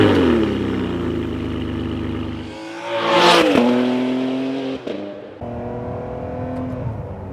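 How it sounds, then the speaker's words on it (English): A Ferrari 599 with an Enzo-derived V12 idles with a rich, layered tone. Around the three-second mark it is revved in a rising, sharp blip, then it drops back to a lower idle. "But let's go ahead and start her up."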